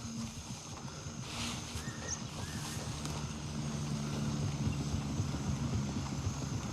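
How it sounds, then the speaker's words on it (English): An enemy helicopter in the video game Gray Zone Warfare: a steady, droning rotor and engine rumble with a wind-like hiss, fairly distant and growing slightly louder over several seconds. "Got a feeling that's their heli they're pulling out."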